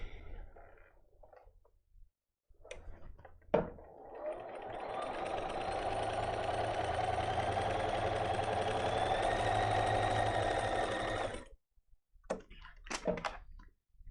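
A sewing machine stitches a seam on a quilted Milk Thistle placemat, a steady whirring run of about eight seconds at close range, framed by brief handling clicks and soft bumps before and after.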